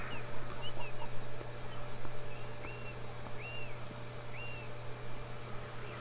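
Chickens in the game Beyond Eyes give soft, sparse clucks and short calls over a faint steady hum and light ambient background.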